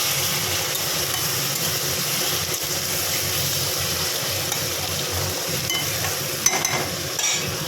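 Chopped onion and tomato sizzle in hot oil while being stirred for a mutton curry, a steady close frying hiss with a few louder stirring scrapes near the end.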